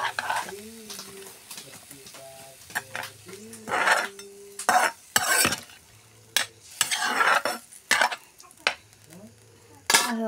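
A spoon scrapes and knocks around a pot of taro and meat curry in irregular bursts of stirring, close and fairly loud, while a voice talks in the pauses between strokes.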